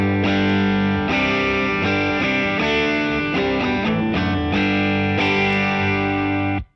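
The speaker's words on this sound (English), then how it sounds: "So I have set the amp cabinet up with just a crunchy tone." An electric guitar plays chords with a crunchy, lightly distorted tone through an amp cabinet with a little reverb, strummed loudly in a series of ringing hits before stopping abruptly.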